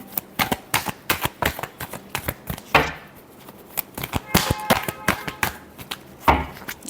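Tarot cards are shuffled in quick, crisp riffling bursts that repeat in an irregular rhythm close up, with a few brief pauses between the runs.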